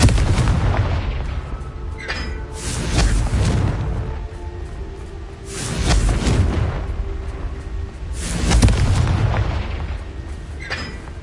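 Confringo spell blasts in the video game Hogwarts Legacy, three heavy booming explosions spaced a few seconds apart, each with a rumbling tail, loud and close.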